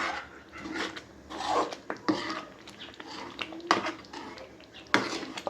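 A spoon scrapes and stirs pav bhaji with Amul butter in a pan, in irregular rasping strokes and metallic knocks against the pan, fairly quiet and close, with no talking.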